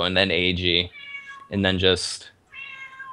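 A pet cat meows twice, clear and close, with drawn-out tonal cries breaking between bursts of someone talking during a game session.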